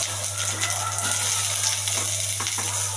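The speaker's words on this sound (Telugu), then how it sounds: "ఉల్లిపాయ మరీ బాగా ఎగర్చొద్దంటే కొంచెం పచ్చిగానే ఉండాలి." Onions frying in oil in a pan, a steady close sizzle with light stirring scrapes, continuous for the whole stretch with no talking.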